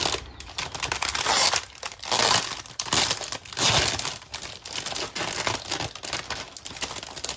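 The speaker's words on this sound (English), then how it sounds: "Resealable bag." A plastic resealable bag from an ICM 1/35 Panhard 178 AMD 35 model kit is handled close by, giving steady, dense crinkling and crackling throughout with brief dips.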